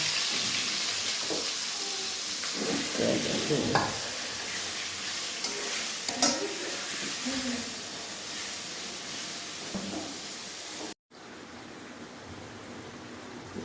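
Tengra fish fries in three tablespoons of hot oil in a wok, a steady sizzle and hiss with occasional stirring clinks and scrapes, close and continuous until a brief dropout near the end.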